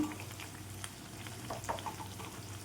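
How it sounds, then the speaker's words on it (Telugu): Brinjal bajji frying in oil in a pan over a medium flame, turned from side to side, giving a soft, quiet crackling sizzle with a few brief louder bursts as pieces are moved. "ఈ విధంగా అయితే 2 వైపులా కూడా తిప్పుకుంటూ వేయించుకోండి"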